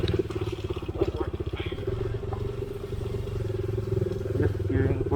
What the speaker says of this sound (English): Bike sounds very grunty right now.